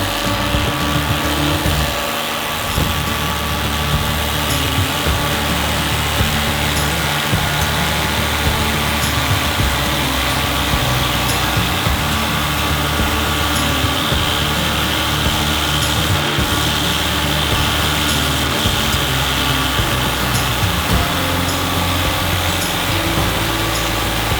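A pulse laser machine cleans a steel I-beam with a steady, loud, broadband hiss and hum that runs unbroken throughout.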